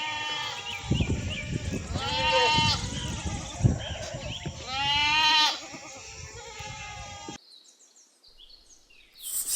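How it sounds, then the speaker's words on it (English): A goat bleats loudly several times in a row, drawn-out wavering calls close by, followed by a short quieter stretch. "goat,"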